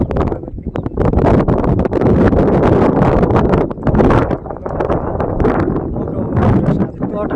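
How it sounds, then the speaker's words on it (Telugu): Wind blowing through hills and orchards around a small village on a slow motorcycle ride from Obulavaripalli toward Goa, a steady loud rush buffeting the microphone throughout with gusts rising and falling. "నిజంగా పొల్యూషన్ అంటే సిటీ పొల్యూషన్ పరంగా ఎలాంటి సౌండ్స్ ఉండవు, గాలి సౌండ్స్ తప్పితే."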